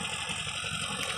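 A small Escort 335 tractor loaded with about 50 quintals of fish runs with a steady, loud engine drone and a continuous low throb, heard alone and close up.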